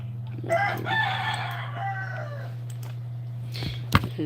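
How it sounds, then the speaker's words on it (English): A rooster crows loudly and close by, a long wavering call, followed by a few sharper clucks near the end over a steady low hum. "You hear the rooster and them?"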